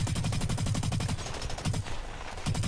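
Rapid bursts of gunfire from the first-person shooter BlackLight Retribution in a team deathmatch, a dense rhythmic volley for the first half that thins out, then another burst at the end.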